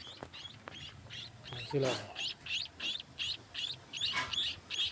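Small Maya birds chirp in a cage, with repeated high bright calls in a steady rhythm close by, while a person speaks quietly under them.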